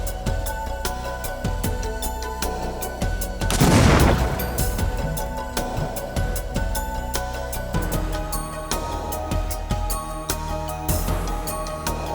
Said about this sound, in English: The final package is ready to detonate.